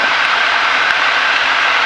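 Small airplane engine during the pre-takeoff run-up, heard from inside the aircraft as a loud, steady, droning roar with no breaks.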